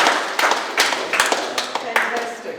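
Hands clap in an uneven, moderately loud patter from an audience at a New Zealand migrant tech entrepreneurs' evening, applauding a speaker named Michelle, with murmured talk mixed in under the claps.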